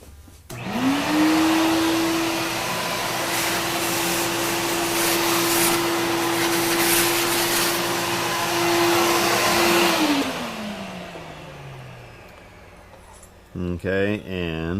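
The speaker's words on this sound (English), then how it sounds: "I'm going to get the vacuum." A vacuum cleaner whines loudly and steadily for about nine seconds, then winds down as it switches off; a brief clatter follows.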